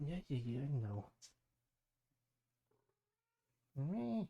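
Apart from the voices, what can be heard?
cat meowing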